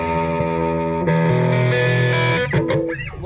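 Distorted electric guitar chords through a Kemper Profiler top boost amp profile ring out loud and close, a few sustained strums followed by a brief sliding flourish.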